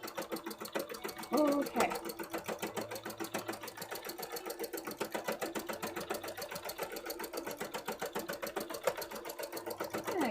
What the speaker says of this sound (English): Get all this bit sewn up.